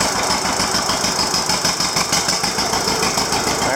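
A John Deere 730 LPG tractor engine idles close by with a steady, throbbing chug and rattling vibration, loud and continuous with no voices.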